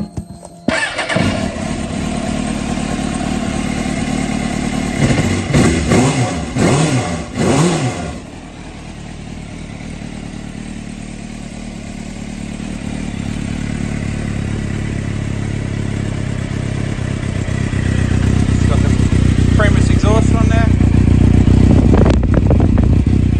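A 2003 Suzuki GSX-R600 with a Remus exhaust and 29,000 km cranks briefly, fires up and settles into a loud close idle, with a few sharp revs early on and the engine note swelling toward the end.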